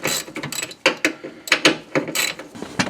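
A hand ratchet loosens bolts on a Mazda Miata convertible top, making loud, close, rapid clicking in several uneven bursts with no talking.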